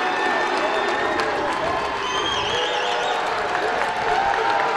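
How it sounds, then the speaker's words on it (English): A home crowd cheering and clapping at a high school boys basketball sectional game between Sikeston and Park Hills Central, a loud, sustained roar of applause and shouting filling the gym, with a whistle-like tone rising through it. "This crowd is into this game."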